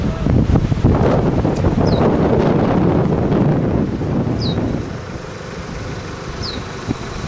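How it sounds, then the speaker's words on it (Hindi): Strong, gusty storm wind at Thandiani roars and buffets the microphone continuously, easing slightly toward the end, with a few faint high chirps. "तूफान आया हुआ है, बहुत तेज हवाएं चल रही हैं।"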